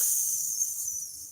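A voice imitates steam hissing out of radiator valves: one close, sustained breathy hiss that fades at the end.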